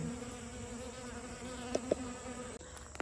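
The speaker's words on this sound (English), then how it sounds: "The bees need water too." Bees buzz around water in an Ohio summer garden, a steady close droning hum with a couple of brief louder passes near the microphone, no voices.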